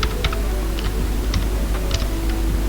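Keys on a computer keyboard are typed to enter a print command, giving a few quick, light clicks in small clusters over a steady low background hum.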